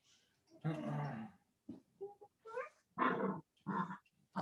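Puppies about four weeks old growl and yip in short bursts of roughhousing play, a brief scuffle followed by several rough, close yelps and grumbles.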